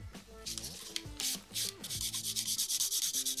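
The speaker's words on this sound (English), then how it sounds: "So we can now buff this nail." Acrylic pink and white competition nail being buffed, with quick scratchy rubbing strokes. Close and fairly quiet, they build into a rapid even rhythm toward the end over faint background tones.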